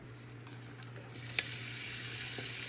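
Meat and onion sautéing in a pan for a spaghetti dinner, a sizzle swelling from quiet to a steady bright hiss, with a few utensil clicks and a low hum beneath.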